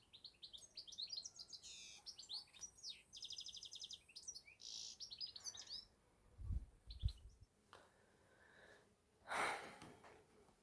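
Birds trill and chirp in rapid high runs near an old estate on a clear day, a few overlapping phrases that fade after several seconds, followed by low thumps, rustling and a brief breathy noise.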